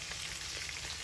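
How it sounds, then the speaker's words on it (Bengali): Fish frying in a pan at home, a steady close hiss and crackle of hot oil running without a break. "বলো মাছ ভাজি করতেছে"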